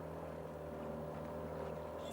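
A steady low engine drone of a motorboat, moderately distant, holds constant throughout with a faint hum.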